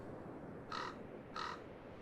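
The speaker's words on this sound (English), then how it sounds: "Those birds are back." Two distinct crow caws from the video game Fate Grand Order, spaced about half a second apart over a steady low background hum, fairly clear and mid-distance.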